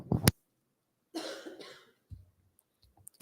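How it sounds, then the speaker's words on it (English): A single sharp cough sounds close by, followed by a breathy throat-clearing exhalation and a few faint small noises in an otherwise quiet room. "That's a cough."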